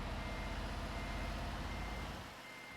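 Heavy engine rumble of a lorry reversing in a truck driving game, with a faint steady warning tone over the drone, which drops off near the end.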